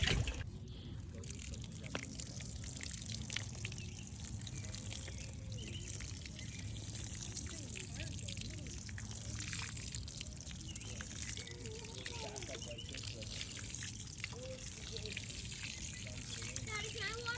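Water pours and splashes onto newly planted bee balm and lavender in a garden, a steady soft hissing spill lasting throughout, faint and close.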